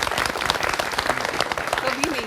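Studio audience applauding for an Aam Aadmi Party volunteer during a Hindi prime-time TV discussion, a dense steady wash of clapping with a voice briefly heard over it.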